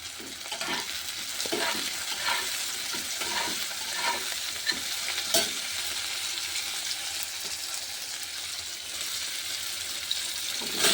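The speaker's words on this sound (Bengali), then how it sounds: "এর মধ্যে আমি আলুটা দিয়ে নুন দিয়ে দিই একটু তাড়াতাড়ি হবে" Potato pieces and salt fry in a pan with a continuous moderate sizzle, punctuated by repeated scraping and stirring knocks, heard up close with no talking.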